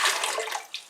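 Water carrying leftover lime splashes into a bucket while preserving eggs by water glassing, a short close gush that tapers off within a second.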